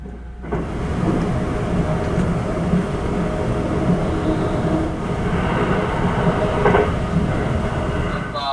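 The Sunrise Seto overnight sleeper train rolls along its rails with a continuous low rumble and rattling, heard from inside a carriage at night, steady and unbroken throughout.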